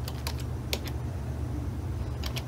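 Computer keyboard keys clack in scattered, quick taps as a command is typed, with a steady low hum of room or computer noise underneath.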